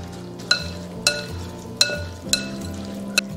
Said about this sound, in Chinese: 倒入调好的凉拌汁，搅拌均匀